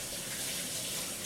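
Water running from a tap into a sink or basin during washing, a steady broadband gush that stays continuous and fairly close throughout, with no voices.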